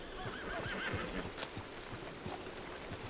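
An Appaloosa horse in Red Dead Online whinnies once, a faint, fluttering neigh, with soft hoof clops and background game ambience continuing beneath it.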